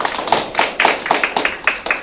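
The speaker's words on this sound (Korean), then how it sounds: "다시 한번 박수 부탁드립니다." Applause at a Korean welfare debate and results-report forum in Busan, sounding as a handful of distinct, fairly close claps in an uneven rhythm rather than a full crowd.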